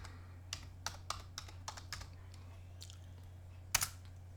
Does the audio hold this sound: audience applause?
no